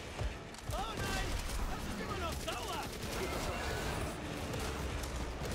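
Rapid bursts of gunfire crackle and rattle continuously, with mechanical clatter mixed in, moderately loud amid a busy, noisy scene in the video game Back 4 Blood.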